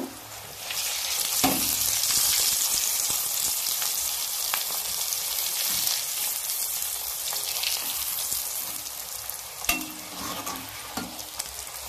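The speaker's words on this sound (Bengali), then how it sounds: "এইভাবে আমি সব কচুরিগুলো রেডি করে ভেজে নেব" Pea-stuffed kachoris (koraishutir kochuri) sizzle in a pan of hot oil, a loud continuous fry broken by occasional clicks and scrapes of a utensil moving them about.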